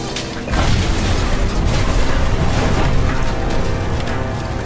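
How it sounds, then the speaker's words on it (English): A loud, sustained roaring blast of broadband noise rumbles on for several seconds as an explosion rips through the wreckage of a crashed Boeing 747, heard nearby. "an explosion rips through the remains of the plane."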